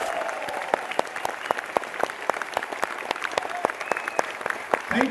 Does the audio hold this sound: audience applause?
yes